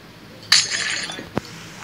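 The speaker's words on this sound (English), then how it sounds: "Sorry, I break your glass" Glass block breaking in Minecraft survival games, a sharp bright shattering crash followed by a tinkling tail and a second small click, brief and fairly close, without talk.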